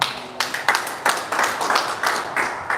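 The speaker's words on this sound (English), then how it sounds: "No, let's clap for them." A small audience claps in irregular, sparse bursts, with individual hand claps standing out rather than a full roar of applause.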